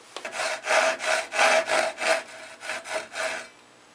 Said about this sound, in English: careful with the router plane because the blade of the router plane is a half inch wide and this dado is a half inch wide